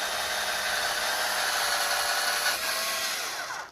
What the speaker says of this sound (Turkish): Bakın şimdi şöyle tahtayı deliyorum.